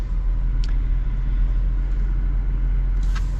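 A 2024 GMC Sierra 1500 Elevation pickup truck pulls away in 2-wheel drive, giving a low, steady engine and road rumble heard from inside the cab, with a couple of brief faint clicks and no speech.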